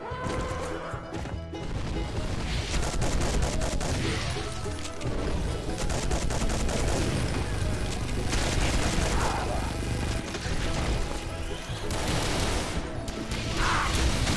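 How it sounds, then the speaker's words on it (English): Rapid revolver gunfire in the Brutal Doom 64 video game, dense and loud with overlapping shots, crashes and impacts in a continuous barrage, faint voices now and then. "I have a revolver too. It shoots a lot faster than yours"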